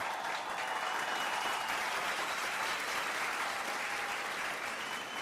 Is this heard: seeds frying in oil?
no